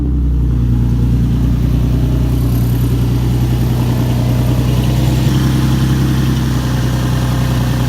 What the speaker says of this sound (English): That's the pump, the power steering pump, just kind of filtering through and stuff.